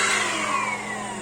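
A Hoover Air 2 in 1 vacuum cleaner runs close by with a steady high whine and airflow roar, pitch sliding slightly as the power head moves, no voices.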